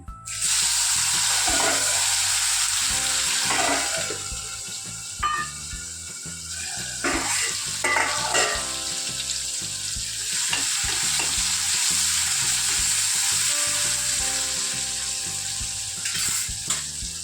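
Tomatoes frying in a pan with cumin, asafoetida and curry leaves for fasting khichdi, a steady close sizzle with repeated scraping and stirring strokes throughout, no voices.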